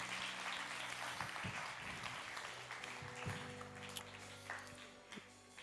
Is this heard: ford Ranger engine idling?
no